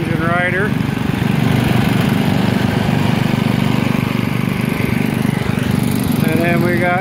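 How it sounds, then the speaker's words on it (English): A 1975 rear-engine riding lawn mower runs steadily and loudly up close, its engine drone continuous throughout with a voice briefly heard at the start and end. "1975 rear engine rider."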